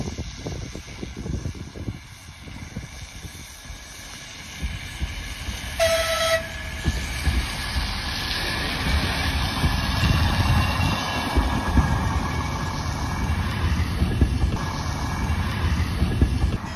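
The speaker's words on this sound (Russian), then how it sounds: "Посмотрим видео с рельсовым автобусом." A rail bus (a self-propelled railcar) rolls along the track with a steady low rumble that builds gradually, and a short horn blast sounds partway through.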